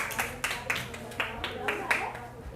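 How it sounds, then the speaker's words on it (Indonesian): Elementary school students in a classroom clap for a group in a few sharp, uneven bursts, close and fairly quiet, with a low hum beneath. "tepuk tangan buat kelompok 4 dulu"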